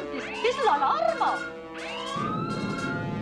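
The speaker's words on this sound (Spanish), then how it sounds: "¡Es la alarma!" Rising and falling warbling alarm siren in a She-Ra cartoon, loud and close, sweeping in pitch under excited cartoon voices, then giving way to a steady broadband rumble.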